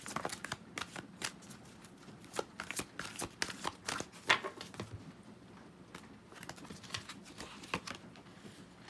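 Oracle cards being shuffled for a tarot reading, a quiet, close series of soft papery flicks and taps in an irregular rhythm, with no one speaking.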